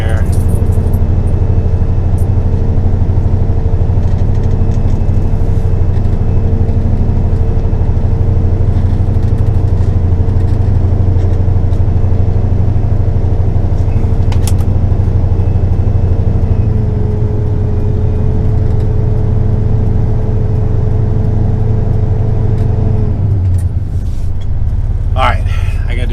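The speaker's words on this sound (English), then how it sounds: "I'm in low gear, super grainy gear here. Let me just get up over this little rise right here." A flatbed truck engine labors uphill in low gear on the highway, a loud, steady low drone with constant road rumble that drops away near the end.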